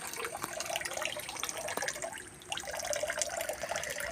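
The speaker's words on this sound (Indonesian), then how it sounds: "Kemudian tuangkan." Liquid fertilizer solution poured from a bucket around the base of a 3.5-year-old durian tree: a steady close splashing and gurgling stream of water onto soil, continuous for several seconds without talking.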